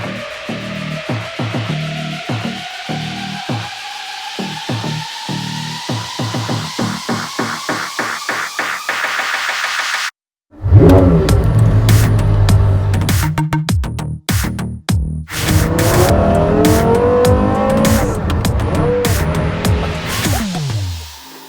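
A Porsche Carrera GT engine revs: a rising, stepped whine climbing through repeated pulses, a brief cut, then a loud close roar with sharp crackling bursts and throttle blips that drop and surge again.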